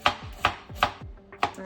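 Knife chopping onion on a board, five crisp close thuds in an uneven rhythm, each a sharp knock with a brief ringing tail, heard alone without talk.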